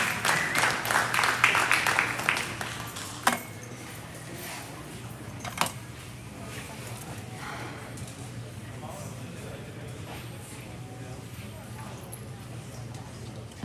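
Audience applause for a lineup of champion gray female cattle at a breed show, a burst of clapping in the first couple of seconds that fades quickly, followed by a few sharp knocks over a quiet hall.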